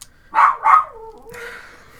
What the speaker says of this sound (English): It's just gonna be me trying to start and the dog going off.